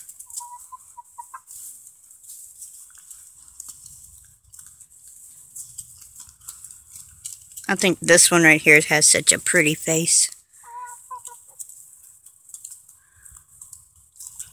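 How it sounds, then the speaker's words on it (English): Roosters on a small home farm give a few faint, soft clucks at the start and near the end, while someone talks close by in the middle. "The roosters do not like to be petted at all."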